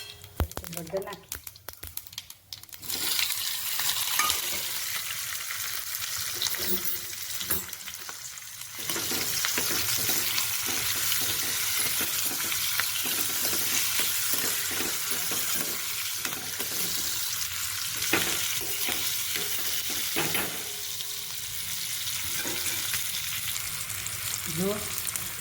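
Chillies temper in hot oil with cumin and turmeric, the base for bottle gourd thepla. A steady sizzle runs throughout, with stirring scrapes and a voice talking near the start.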